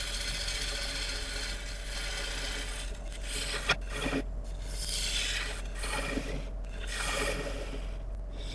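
A tool scrapes and rubs against spinning wood on a lathe, hollowing out a piece turned from a famous tree. The rasping is soft and continuous, with a few brief catches and no talk.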